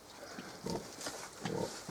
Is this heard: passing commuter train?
no